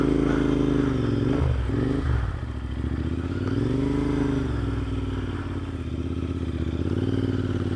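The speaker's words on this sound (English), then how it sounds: "I added an aftermarket exhaust system and an aftermarket air cleaner, but it sure does have the great sound of a British bike" A Royal Enfield motorcycle fitted with an aftermarket exhaust and air cleaner idles and revs nearby on a fall day in Nebraska, producing a deep, throaty, continuous thump that swells briefly with throttle blips.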